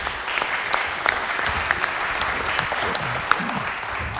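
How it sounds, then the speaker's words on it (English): A seminar audience applauds Carey Newman with steady, dense clapping that holds evenly throughout, moderately close. "Y'all give Carey Newman a round of applause."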